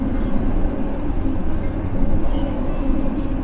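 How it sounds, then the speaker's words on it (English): A train rolls past in the city of Brno with a steady, loud rumble and rail noise throughout, close by and continuous with no pauses. "As our ticket is valid for trains as well, we are going to use a train."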